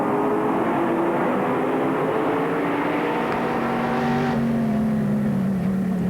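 Classic racing cars lapping the old banked Montlhéry circuit near Paris during a historic Tour de France Auto event, engines droning steadily at a distance, one car's note rising and swelling as it passes closer before fading.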